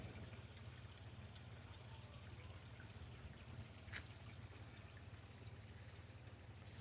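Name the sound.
small water feature trickling in a bird aviary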